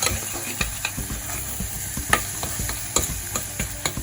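Mushrooms and shallots sauté in a pan, giving a continuous close sizzle broken by irregular scraping and clicking as a utensil stirs and taps against the pan.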